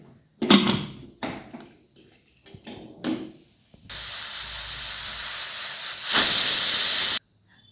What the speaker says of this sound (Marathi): तीन शिट्टी झालेली आता आपण पाहूया खोलून